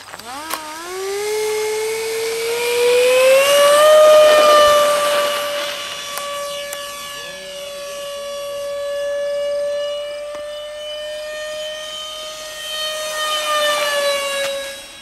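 An Airfield F-15 radio-controlled model jet flies at an RC fly-in, its turbine whine rising and falling in pitch as it passes, with a loud sweep near four seconds and Doppler shifts throughout.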